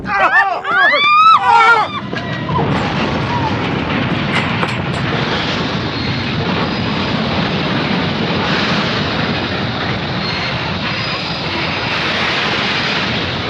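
A scream gives way to a long, roaring train crash of rumbling, grinding debris that sustains loudly without easing.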